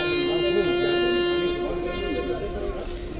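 Jan Shatabdi Express pulling away from the platform at Birur Junction, a sustained horn-like tone over low rumbling train noise, steady and fairly near, with speech audible underneath.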